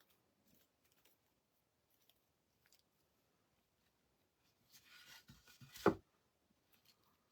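Ribbon being cut with scissors at close range: after near silence, a soft rustle leads into a short, crisp snip, then quiet again.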